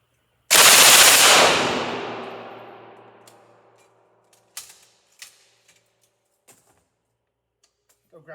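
A rifle with an MG-x39 conversion kit fires 7.62x39 rounds in one loud, sharp report that rings out and decays over several seconds, followed by a few small clicks and handling knocks.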